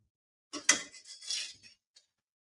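A plate picked up and handled in a home kitchen, a couple of close ceramic clinks and scraping knocks within about a second, then a faint tap, otherwise quiet.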